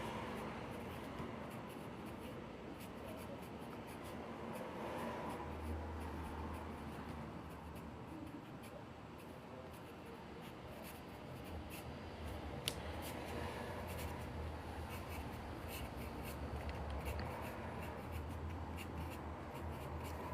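Pen or pencil scratching across paper while a three-point perspective sketch of a building is drawn, a soft continuous rubbing and scraping heard close up over a low steady background rumble.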